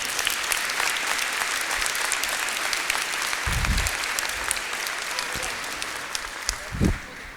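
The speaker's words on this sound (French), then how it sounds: "On peut les applaudir peut-être une nouvelle fois." A hall audience at a town council's New Year greetings ceremony in Fontoy applauds steadily, a dense even patter of many hands clapping, sustained and fairly loud with a few low thumps.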